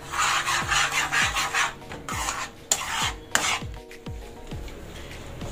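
A spoon stirs egg stew in a pot with steady, rhythmic rasping strokes, about one every half second. The scraping is close and continuous, with a few sharper knocks against the pot.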